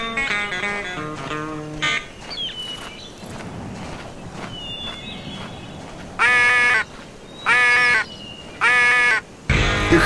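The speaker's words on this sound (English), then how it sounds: "I'm going to blow just a few simple quacks." Duck call blown in short quacking bursts inside the Cabela's North American Adventures hunting game on PSP, three loud evenly spaced honks standing out over a busy field of game ambience and bird cries.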